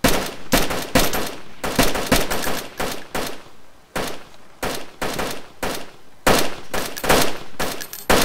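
Rapid bursts of gunfire in the survival video game DayZ, loud, close cracks in clustered volleys with short gaps, firing repeatedly across the stretch with no talk over it.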